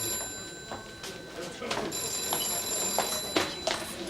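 A telephone rings in bursts with a bright electronic trill, moderately loud, while a person speaks over it in a room.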